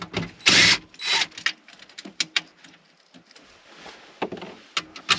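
A power drill backs out the four screws holding the radio unit in a 2011-2019 Ford Explorer, giving several short close whirring bursts with quiet pauses between them.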